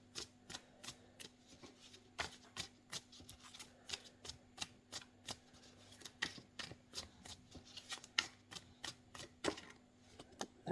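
A monster-themed tarot deck being shuffled by hand, a brisk series of crisp card riffles and snaps repeating steadily, close and quiet with no talking.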